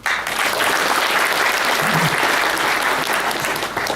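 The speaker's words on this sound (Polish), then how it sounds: "prosimy o brawa" An audience at a Caritas Polska awards ceremony applauds in a steady, full wall of clapping that holds at an even level throughout, with no voices on top.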